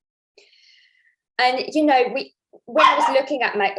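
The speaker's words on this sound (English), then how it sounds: "oh, sorry that my dog is joining us" A pet dog barks twice in loud bursts close to the microphone, each bark rough and drawn out, while a person talks during a meeting.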